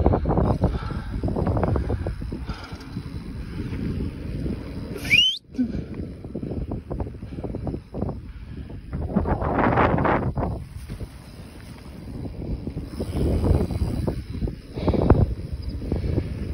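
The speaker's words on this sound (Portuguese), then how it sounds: "Mas pensa no vento frio." Cold wind buffets a rider's microphone while cycling on a road, heavy rumbling gusts rising and falling throughout, loud and close, with one brief sharp squeal partway through.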